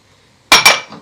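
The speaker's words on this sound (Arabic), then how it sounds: "وهنقلبهم كويس علشان نعمل الدريسنج بتاعي اللي هنتبل بيه السلطة بتاعتي" Two quick metallic clinks of a utensil against a bowl while mixing lemon juice and oil into a salad dressing, sharp and close in an otherwise quiet moment.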